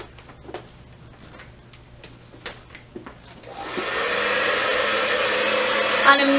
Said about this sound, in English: We're going to remove our nozzle from our blow dryer. Use the diffuser of your choice.